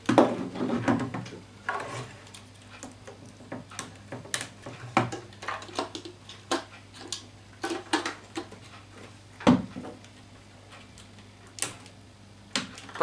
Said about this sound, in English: batteries pop on there